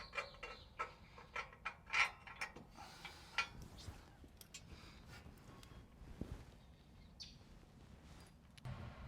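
Metal hardware clicks and ratchets as nuts and bolts are tightened onto a vehicle's front A-arm. Faint, close mechanical clacks cluster in the first half, then give way to softer, scattered handling noises.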